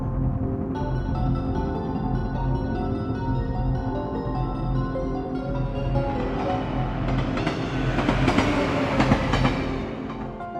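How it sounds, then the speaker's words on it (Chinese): A commuter train in the Splatoon 3 video game speeds through a station without stopping, its rolling rumble and rattling swelling toward the end over steady background music. "大型跑期间电车到来只会快速过站"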